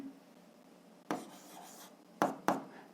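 A pen writes on paper while an algebra problem is worked out, with one soft scratching stroke and then two sharper taps or strokes close together, quiet and near, with no talking.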